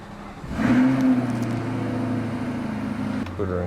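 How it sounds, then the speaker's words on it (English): A rebuilt Corvette engine runs steadily on its first test drive after a repair, a constant low hum with a brief rise in pitch, under talk. "now let's go for our first official test drive."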